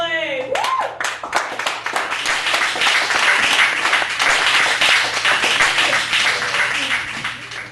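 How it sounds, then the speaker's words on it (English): An audience at a poetry open mic in a cafe breaks into loud, sustained applause with cheering that carries on throughout. "I want to hear a huge round of applause for Patrick Hurley."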